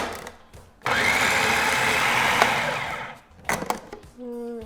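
A food processor whirs loudly for about two seconds as it chops cabbage for coleslaw, then stops, followed by a few clicks and knocks of the machine being handled.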